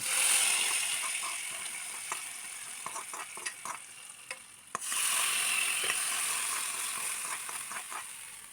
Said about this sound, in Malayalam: കടുക് താളിച്ചതിനെയും കറിയിലേക്ക് ചേർത്ത് കൊടുക്കാം